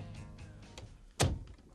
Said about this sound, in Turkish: Kapat kapıyı Ergun.